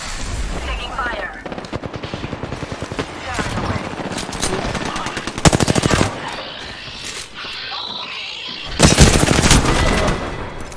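Machine gun fire in a video game, loud rapid bursts of gunshots in several sustained volleys with short gaps, a voice talking between them.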